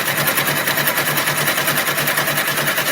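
Embroidery machine stitching a line down fabric, a loud, close, rapid mechanical chatter of the needle with a steady rhythmic pulse and motor whir, running continuously throughout.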